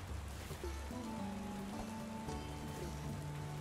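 Rain in the Tavern Keeper video game patters steadily on a surface, a continuous hiss of falling drops under soft tonal game music.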